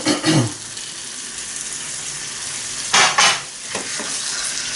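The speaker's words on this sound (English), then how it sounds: "And a nice sizzle." A lamb chop sizzles steadily in hot groundnut oil in a frying pan, a constant crackling hiss with a couple of louder bursts as it shifts in the pan.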